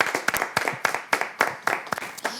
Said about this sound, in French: Demandez qu'on applaudisse le pasteur.